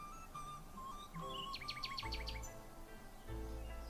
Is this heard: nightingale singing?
yes